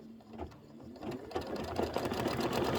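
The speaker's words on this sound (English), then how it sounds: "we'll just stitch them out" An embroidery sewing machine stitching out an ice cream bar quilt block, its fast mechanical needle chatter whirring steadily and growing a little louder, close by with no talking.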